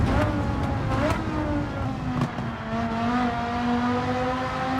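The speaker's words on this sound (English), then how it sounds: "I love the pops in the exhaust though" Porsche Carrera GT in Gran Turismo 7, an engine note rising and holding at steady revs with a few sharp crackling exhaust pops scattered through, heard close and fairly loud.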